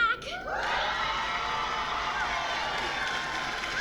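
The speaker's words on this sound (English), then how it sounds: "Why is there an audience cheer for that?" A sitcom studio audience for Fuller House breaks into loud cheering with whoops and applause, bursting in suddenly and staying strong and sustained throughout.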